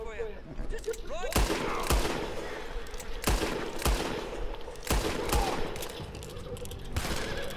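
Old-style firearm shots in a Red Dead Redemption 2 shootout, several loud sharp blasts spaced about a second or more apart with pauses between for slow reloading. Game voices talk between the shots.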